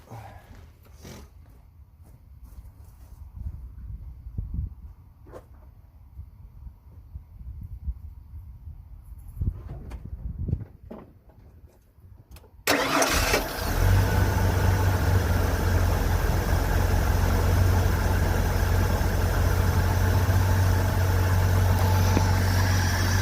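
After quiet rustling, a 1986 Ford F150 pickup with a 4.9 inline-six and an upgraded starter cranks and catches, then settles into a loud, steady idle that rumbles on.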